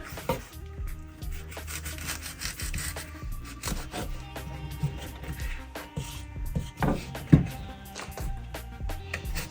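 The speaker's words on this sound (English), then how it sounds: "I'm gonna cut my plantain into pieces." Knife cutting plantain into pieces on a board: repeated irregular rubbing and chopping strokes up close, with one sharper knock near the end and no talking.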